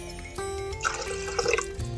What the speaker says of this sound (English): We'll put a little bit of water in there just in case.